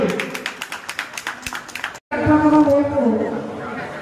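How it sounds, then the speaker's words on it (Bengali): An audience claps at a blood donation camp and student felicitation event in Krishnanagar ward 15; a voice speaks over light taps first, then a dense, steady burst of applause follows a brief pause and carries to the end. "আমরা নরেশদাকেও দেব হাততালি, একটু হাততালি করব"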